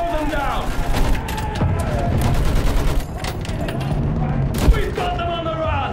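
Rapid bursts of machine gun fire and scattered shots in a Battlefield 1 trench battle, loud and continuous, with shouting voices over the gunfire.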